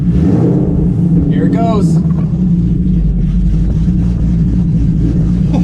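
Cammed Cobra Jet engine in a Ford Mustang Boss 302 settling into a lopey idle: a loud, continuous low rumble with an uneven loping pulse, heard close up, with a brief voice and a short whine over it.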